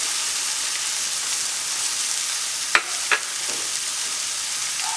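Curry leaves added to hot oil with softened tomato for Malabar mutton curry, a steady close hiss and sizzle broken by two sharp pops or clatters.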